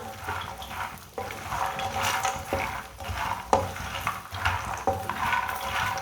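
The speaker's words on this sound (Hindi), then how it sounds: "इसे चम्मच चलाते हुए भूनना" Metal spoon stirring phool makhana (fox nuts) as they dry-roast in a pan, with steady scraping and rattling strokes and a few sharper clacks, close and fairly quiet, with no talking.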